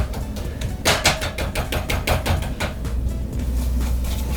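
A whisk mixes hair lightener in a bowl with rapid, rhythmic clicking and tapping strokes, close and steady throughout.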